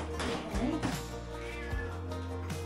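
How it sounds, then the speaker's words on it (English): A vocal cat in a Spanish farmhouse in Andalucía meows several times in quick succession, close and clear, with a slight background hum. "a good meow from Impy, he is very vocal"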